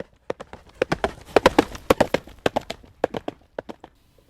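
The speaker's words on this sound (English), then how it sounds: "When you hear the sound of hooves and think of horses" Horse hooves clip-clop in a steady, uneven rhythm, with crisp, close hoofbeats sounding alone throughout.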